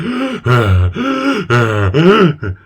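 A voice imitates the labored breathing of a smoker: a series of about five loud, strained, groaning breaths, each drawn out for roughly half a second, with brief gaps between them.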